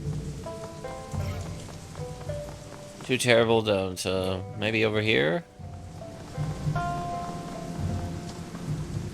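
Steady rain patters and hisses throughout a rainy scene in the PC role-playing game Shadowrun: Hong Kong, soft background ambience with a person speaking briefly over it.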